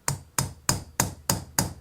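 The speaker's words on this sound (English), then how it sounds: "take the dome side of your hammer and just lightly tap over the hammered back side of that pin" A hammer's dome side lightly taps a straight razor's hinge pin, metal on metal, six crisp even taps spaced about a third of a second apart, close and clear with no talking.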